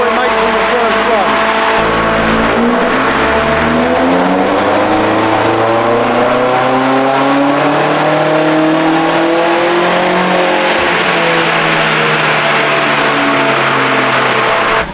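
A Vauxhall Astra VXR engine roars loudly on a dynamometer run, revving up through rising gears in long sweeping climbs, with the pitch dropping and climbing again before it cuts off.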